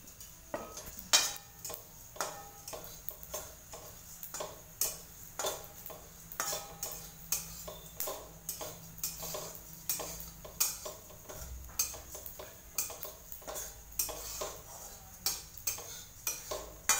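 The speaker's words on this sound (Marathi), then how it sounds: "आता हा रशीचा मसाला भाजून झाला सगळा." Spice masala being dry-roasted and stirred in a pan for Marathi-style umbar vade: a steady run of close scraping and clinking of a spoon against the pan, faint and irregular, with no talk.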